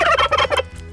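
A turkey tom gobbling on an off-grid homestead, one rapid rattling gobble close by and loud, fading out quickly with no talk over it.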